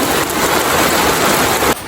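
Heavy rain pours steadily on a leaking house, a dense, loud, continuous wash of drops close by that cuts off abruptly near the end.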